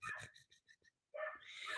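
A dog whimpers in a few short, high, breathy whines, goes briefly quiet, then lets out a louder bark-like yelp, all close and fairly faint.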